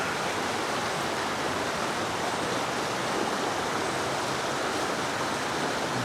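White water rapids of a stream in Cornwall Park, a close, loud and unbroken rushing roar of tumbling water heard alone, steady from start to finish.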